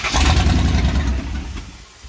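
A Mopar Dodge 400 big block engine, run on the ground for its first start in 20 years, barks loudly and close with a rough, lumpy roar that fades as the revs drop.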